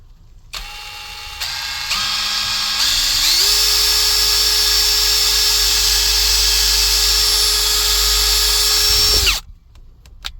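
An 18V brushless cordless impact driver whirs, stepping up in pitch to a loud, steady maximum-speed whine that runs for several seconds before cutting off.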